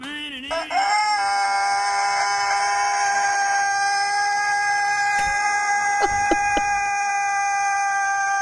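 A rooster crows in one long, strained call that stretches on for several seconds without a break. A few sharp clicks and knocks near the end cut across the fading crow.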